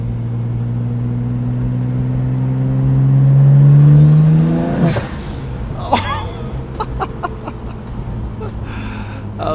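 A twin-turbo BMW 135i accelerates hard nearby, its engine note climbing steadily in pitch to a loud peak, then cutting off abruptly before voices talk excitedly over the idle.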